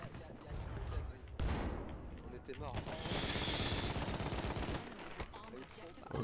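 Gunfire from an online shooter game, with a burst of shots, one sharp crack around the middle and a sustained loud rattle later, all under continuous talk.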